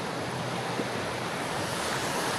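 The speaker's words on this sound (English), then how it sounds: "There's a little waterfall there." Small waterfall in an Australian wetland: a steady, continuous broadband rush of falling water, fairly close and even throughout, with no voices.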